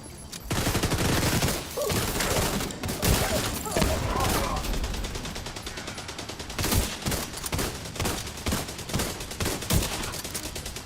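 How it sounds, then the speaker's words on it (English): Machine gun fire in The Division 2: dense, loud automatic bursts and overlapping shots pound on with short gaps, close and chaotic, over continuous game noise. "Machine gun's ours, guys. Machine gun won't hurt you."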